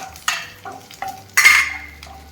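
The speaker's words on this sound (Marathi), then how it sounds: "कांदा हा तेवढाच भाजायचा जोपर्यंत तो ब्राऊन होत नाही" Onions frying in a pan until browned, with a soft sizzle broken by a few sharp stirring and scraping bursts from a utensil, heard close up with no talking.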